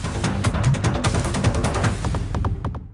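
Rapid cracks of gunfire from forest workers searching for a rhino calf in flood-hit Kaziranga, a dense volley of sharp reports ringing out in quick succession outdoors.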